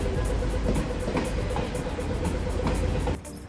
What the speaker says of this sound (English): There's our train arriving from Stony Point.